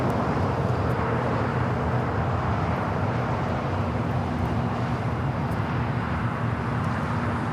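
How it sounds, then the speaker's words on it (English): An EVA Air Cargo Boeing 777 freighter takes off at LAX, bound for Taipei. A loud, steady, broadband jet engine roar holds evenly throughout with no talking. "This is Eva Air Cargo 621 taking off to Taipei on the 777 freighter."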